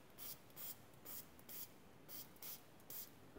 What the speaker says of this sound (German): Das sprühe ich mir ein.